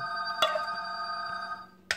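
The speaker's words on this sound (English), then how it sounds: "My phone, people, have a habit of ringing always at the wrong time" A phone rings in a home kitchen during baking, a bright electronic tone holding steady with a sharp burst near the start and another at the end, close and clear with no talking.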